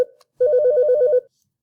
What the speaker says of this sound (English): I apologize for the phone call.